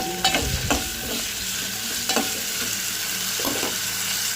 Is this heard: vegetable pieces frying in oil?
yes